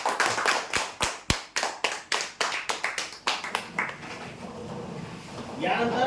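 An audience at a prize-draw event claps for a kitchen-rack winner, a burst of rhythmic, fairly close hand claps that thins out after a few seconds into a room murmur.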